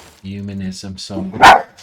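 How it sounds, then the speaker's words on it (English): Pet dogs in a home bark and yip briefly, close by, while a person talks over them. "sorry about my dogs"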